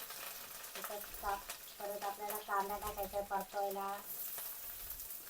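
Mustard seeds, cumin, curry leaves and green chili sizzle and crackle in hot oil, with rapid popping seeds spattering in quick bursts over a steady frying hiss, close and moderately loud.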